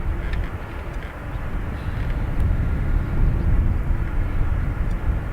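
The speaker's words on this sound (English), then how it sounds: "So, AA723. It's a 787-8 Dreamliner off to Philadelphia." An American Airlines Boeing 787-8 Dreamliner departing Dublin for Philadelphia gives a low, rumbling engine roar that builds slightly and stays heavy and continuous throughout, with no voices.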